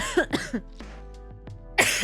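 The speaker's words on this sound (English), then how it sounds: "I'm sorry for the coughing." Several short, harsh coughs and throat clearings from one nearby person, spaced across two seconds with quiet gaps between bursts.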